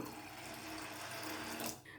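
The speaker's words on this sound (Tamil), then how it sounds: "தண்ணி ஊற்றிக்கலாம்." Water gushes steadily into a pot of green gram, a continuous splashing pour close by that cuts off abruptly just before the end.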